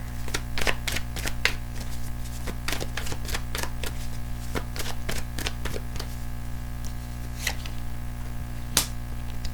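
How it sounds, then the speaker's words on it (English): Tarot cards drawn and shuffled from a deck, with many sharp clicks and snaps in an irregular run over a steady background hum, close and fairly loud with no talk. "I'm gonna pull two more, just regular tarot cards as well."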